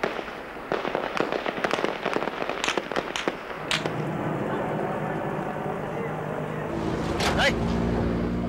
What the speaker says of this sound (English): soldiers shooting at random